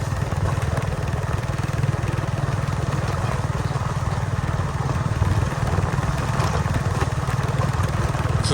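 A motorcycle engine runs steadily and loud throughout, a continuous low droning rumble as it is ridden along a rural road in Laos during the rainy season, with no clear speech.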